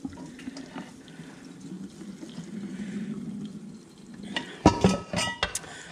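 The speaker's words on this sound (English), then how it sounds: "the real trick is getting that cold water on it" Cold water poured over freshly boiled red rock crabs at Newport pier, a running, splashing flow that swells and then breaks into sharper splashes and clatter near the end, close by with no voices.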